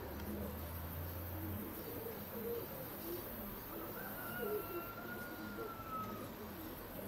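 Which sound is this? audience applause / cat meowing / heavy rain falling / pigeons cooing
pigeons cooing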